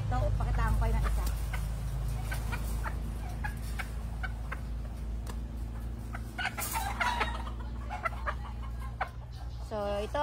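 Hens cluck and poultry gobble amid a noisy farm breeding area, with a person talking faintly and a steady low hum underneath.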